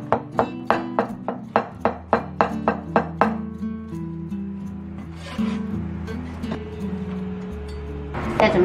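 A knife chops half a zucchini on a cutting board in a home kitchen, with about a dozen quick, evenly spaced crisp knocks followed by softer rustling and scraping.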